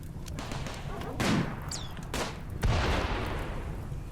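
Turrets in RimWorld fire in a few spaced, thudding shots, each a short burst with a fading tail, over a steady low game background.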